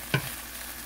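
Chicken fried rice stir-fried in a deep frying pan, one brief scraping clatter of utensil against the pan followed by a steady low sizzle, close and moderately loud.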